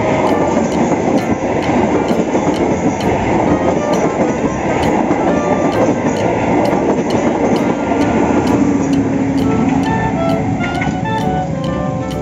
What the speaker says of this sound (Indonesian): Lihat, ada gerbong kargo.